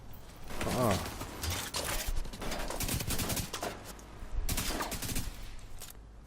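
Rapid bursts of automatic gunfire crack through a firefight in The Division 2, with repeated loud shots clustered across the scene while voices talk over the shooting.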